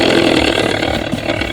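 An Ola S1 Pro electric scooter plays its artificial motor sound, a close, steady engine-like hum with a buzzing tonal edge that continues without a break.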